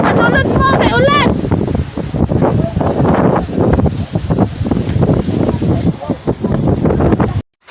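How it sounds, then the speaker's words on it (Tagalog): Super typhoon wind and rain in Balingasag, Mindanao, strong gusts buffeting the microphone in heavy roaring bursts, loud and close, with people shouting and talking throughout. "Guys, hangin plus ulan."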